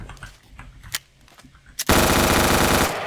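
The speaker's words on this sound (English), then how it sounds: "here we have the Glock 18 with a little bit more ammo and this full auto mean machine business" Glock 18 pistol firing full auto in a Minecraft guns mod, a single shot or two followed by one sustained, loud, rapid burst of gunfire lasting about a second.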